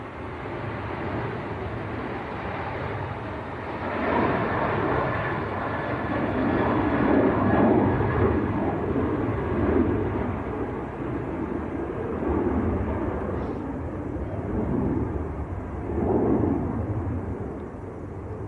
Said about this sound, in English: This is going out to Lanzarote. A good old 737-800 series.